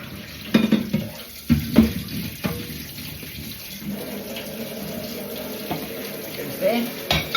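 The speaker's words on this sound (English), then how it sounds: "Water's just come through hot." Hot water runs steadily from a household tap, a continuous rushing flow at close range with a few louder knocks and clatters early on, while a voice speaks briefly over it.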